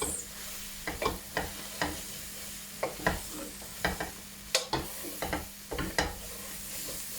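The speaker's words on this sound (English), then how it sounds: "So let's just give that a really good stir." Spices fry in a pan for an aubergine and halloumi curry, stirred with a spoon: a steady sizzle underneath and regular sharp scraping strokes, about two per second, close and clear.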